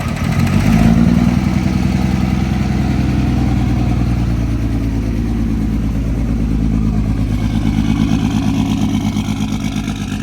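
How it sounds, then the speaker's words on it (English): A 5-cylinder Cummins diesel with no oil in it and a rod through the block runs with a loud, steady, fast-pulsing clatter after a brief surge at startup, close by, with no talk over it. "5-cylinder Cummins, 23 valve. See if she starts."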